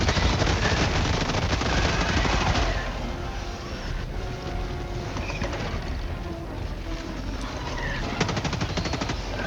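Rapid automatic gunfire from Helldivers 2 as a bug swarm is shot down, a dense continuous rattle of shots that eases slightly midway and then picks up again, with no talk over it.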